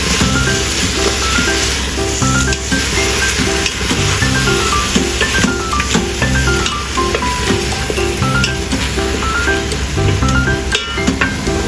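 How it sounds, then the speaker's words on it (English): Mushrooms and bean curd knots are stir-fried in a pan, giving a steady loud sizzle and hiss over continuous background music, with no talking. "Stir-fry mushroom until fragrant"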